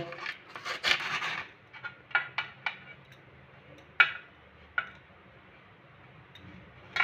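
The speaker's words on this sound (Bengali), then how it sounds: "এইভাবে আমি আলুটাকে গ্রেট করে নেব" A potato being grated by hand for jhuri alu bhaja, uneven rasping strokes with sharp scrapes and clicks scattered across the clip, close and moderately loud, no speech.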